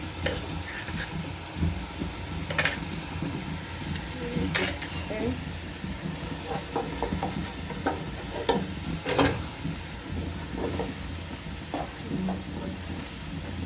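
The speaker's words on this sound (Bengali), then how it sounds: "এই মশলাটা আমি ভালোভাবে কষিয়ে নিই" Spice paste and onion frying for chicken korma, a steady close sizzle with intermittent scraping strokes of a spoon against the pan at moderate volume.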